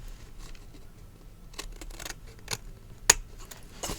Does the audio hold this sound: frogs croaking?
no